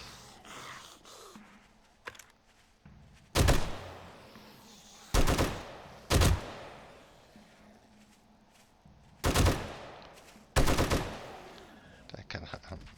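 Gunfire in the video game 7 Days To Die during a horde attack, with several loud separated bursts of automatic fire spaced a second or two apart, quieter game sounds in between.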